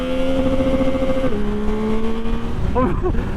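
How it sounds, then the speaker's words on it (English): A Yamaha MT-09 with the Y-AMT semi-automatic gearbox holds a high, steady engine note close by, drops in pitch with a quick race-style gear shift, then gives a few sharp throttle blips near the end. "that's the same noise you get with the SP and the new derivative of the MT-09, that naughty kind of race sounding shift"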